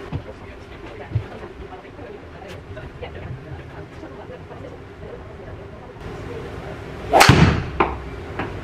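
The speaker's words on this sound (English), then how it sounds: "I'm going to hit one more drive" A single sharp golf driver strike on a drive, heard as a loud crack late in the clip after a long stretch of quiet outdoor ambience and soft, low background noise.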